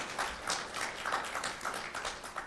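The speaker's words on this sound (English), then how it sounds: "So a round of applause for the committee members." Audience applause for committee members at an academic multidisciplinary conference, a faint, even smattering of clapping hands heard from a distance, sustained without speech.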